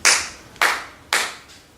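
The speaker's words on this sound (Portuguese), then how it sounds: "bateu 3 palmas," Three sharp hand claps, evenly spaced about half a second apart, each crisp and close with a short decaying ring, followed by a fainter fourth echo-like tap.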